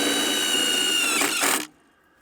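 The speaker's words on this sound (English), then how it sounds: "we'll just take, again, 4 5/16 head 3/4 inch self-tapping metal screws and drive them through the 3 pre-drilled holes" A power driver drives a 5/16-head, 3/4-inch self-tapping metal screw through a pre-drilled hole in a central support bracket, with a loud, steady whine that rises into a ratcheting burst and then cuts off abruptly.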